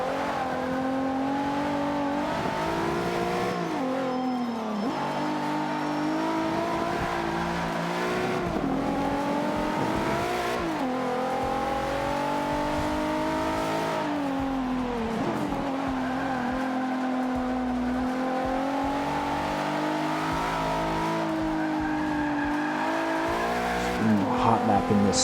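An Infiniti Q50 driven on a hot lap at Eau Rouge in Forza Motorsport 5, engine revving loudly up and down through gear changes with occasional tire squeal, continuous and close.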